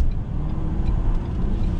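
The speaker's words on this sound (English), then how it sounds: "We're going in this left-hand bend here, pitch it in, nice and stable, rolling on throttle." Front-wheel-drive 2019 Ford Edge SUV taking a left-hand bend and rolling onto the throttle, a steady low engine and road rumble filling the cabin at an even level with no break.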